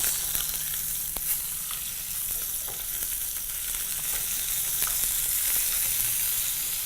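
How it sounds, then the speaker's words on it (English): Mutton tikka pieces sizzle and fry in a hot pan as the meat browns, a steady, close crackling hiss with occasional faint clicks and no talking. "All we're going to do now is proceed to finish browning the meat."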